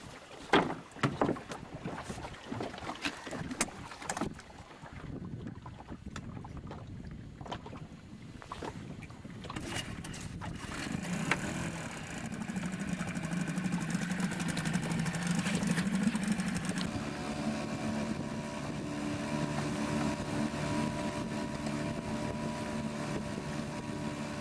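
A small boat's motor starts up in a harbour after clattering handling noises, then settles into a steady low running hum with wind buffeting the microphone.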